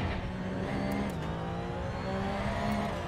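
A Porsche race car on hard, cold tires in a racing video game drives along with a steady engine whine and some shifting pitch, loud and continuous without talk.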